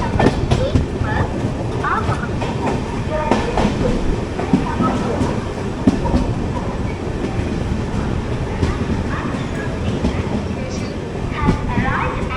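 A Guruvayur-Ernakulam passenger train hauled by a WAP-7 electric locomotive passes on the opposite line, heard from aboard an express in India as a steady loud rumble with rhythmic wheel clatter and sharp clicks.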